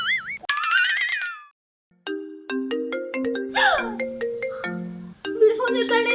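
A mobile phone ringtone plays loud and close, a bright melodic jingle of tones that pauses briefly and then resumes with a playful, bouncy tune in a village home.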